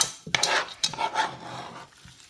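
Boiled potatoes stirred with butter in a pot, a few scraping, clattering strokes of a utensil against the pot with soft sizzling in between, close and fairly quiet.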